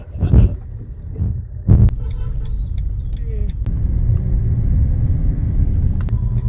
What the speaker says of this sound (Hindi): देख रहे हो ना यार, फाड़ती हुई निकलती जा रही है गाड़ी,